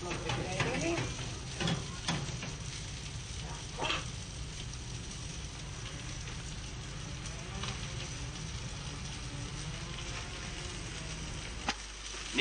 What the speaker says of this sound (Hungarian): most pedig forró olajba tesszük ezt a lisztben megforgatott halat